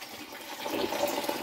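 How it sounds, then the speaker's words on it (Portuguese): Water pours and rushes steadily for a moment while a pig pen is cleaned, a close, splashing flow with no voices. "Estamos colocando a água aqui."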